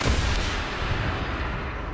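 A LOSAT anti-tank missile launch in War Thunder: a loud, broad blast at the start followed by a sustained roaring rush that stays close and dense.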